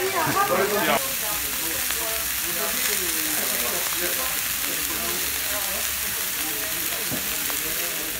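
Faux filet steak sizzling on a grill, a dense steady crackle and hiss running throughout, with people talking over it.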